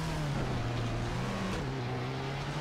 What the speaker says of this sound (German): Fahre jetzt an den Busch hier ran.